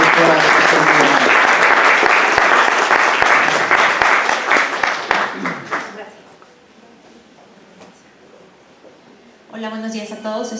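Audience applause for a doctor introduced as a speaker at a medical talk, a loud dense burst of clapping that fades out after about six seconds, followed by quiet and then a voice speaking.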